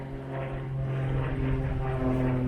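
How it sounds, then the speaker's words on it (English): A propeller airplane drones overhead while someone is stranded at sea, a steady engine hum with strong low tones that swells slightly louder as it passes. "There's a plane going ahead above me right now."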